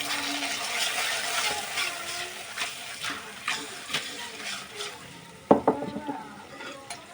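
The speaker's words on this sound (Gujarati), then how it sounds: "હવે આપણે એને હલાવીશું" Fish curry stirred in a pan, a soft sizzle under scattered scrapes and light clinks of the spoon, with a louder cluster of knocks near the end.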